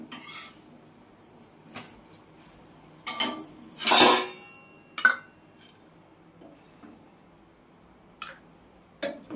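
Chapati curry is transferred into a bowl, with sparse metallic clinks and scrapes of a spoon against cookware, one louder clatter in the middle, close and otherwise quiet, with no voices.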